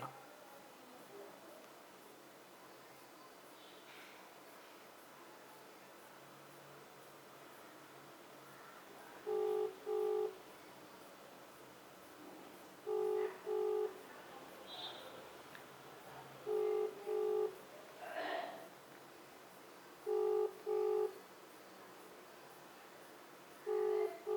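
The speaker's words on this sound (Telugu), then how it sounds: "ఒకసారి వాట్సాప్లో కూడా కాల్ చేద్దాం" WhatsApp phone call ringing unanswered: repeated paired electronic ring tones in a regular rhythm, about every three to four seconds, over faint low background noise after a quiet start.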